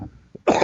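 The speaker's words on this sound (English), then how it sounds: "Let me cough here." A single short, close cough from a man, preceded by a faint throat sound, with brief quiet before it and no speech.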